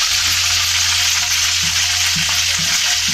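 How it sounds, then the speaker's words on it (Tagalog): Chicken fries in boiling oil, a dense, loud, continuous sizzle heard up close, with a low steady hum underneath and a few soft knocks. "Kuluan na po yung mantika."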